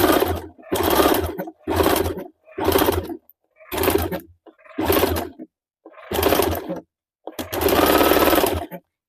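A sewing machine joins the lining of a boat-neck blouse in a series of eight short close bursts separated by brief pauses, the last run longer, with no talking.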